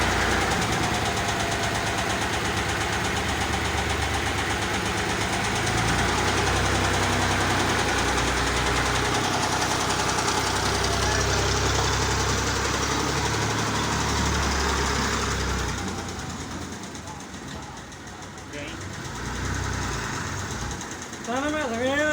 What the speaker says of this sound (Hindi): ट्राली आ गई यहाँ पर।